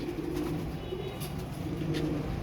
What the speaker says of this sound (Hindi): ये असल हालत के अंदर कबूतर दिखा रहा हूँ आपको मैं, असल हालत में।